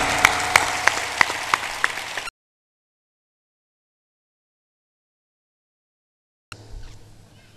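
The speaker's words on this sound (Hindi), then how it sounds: "वह सभा सभा नहीं जिसमें जोरदार ताली ना हो" An audience at a spiritual discourse by Asang Dev Ji at Sivnikala Dhamtari claps loudly and rhythmically in sharp, regular beats, then goes fully silent, and a faint crowd murmur returns near the end.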